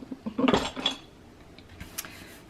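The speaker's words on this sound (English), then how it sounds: "instead of making so much noise when I put my scissors back in" Metal scissors clatter and clink as they drop into a tube-lined holder, a quick burst of jangling hits followed by a lighter rattle.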